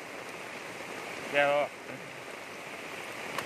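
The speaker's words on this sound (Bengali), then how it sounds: "বৃষ্টি তো পুরা লাগছে।" Rain falls as a continuous, even hiss in the background, with a person briefly speaking a single word over it.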